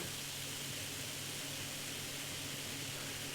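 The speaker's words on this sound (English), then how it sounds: "You can probably hear it hissing and fizzing." A steady, faint fizz of carbonation from Evil Twin Brewing's Imperial Breakfast Gose beer in a glass crackles close up, a fine continuous hiss with no other sounds.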